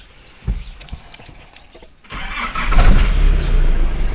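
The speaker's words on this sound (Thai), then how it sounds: "แล้วก็ไปสตาร์ทรถนะครับ" A Nissan Navara pickup engine cranks and starts after a few quiet clicks and handling sounds, then settles into a loud, close rumbling idle.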